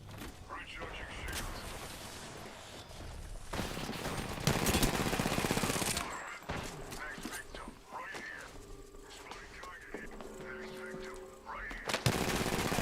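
Gunfire in a video game, heard as loud, sustained rapid bursts and volleys with mechanical clatter and electronic tones, dense and continuous over a busy game mix.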